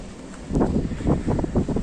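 Strong gusty wind buffets the microphone outdoors near a monastery in Greece, rising into rough, loud rumbling bursts after a quieter opening.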